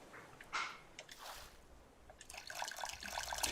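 Water is collected in the survival video game Raft, heard as soft splashing and trickling liquid bursts that grow into a steadier, slightly louder pour toward the end, with no talk.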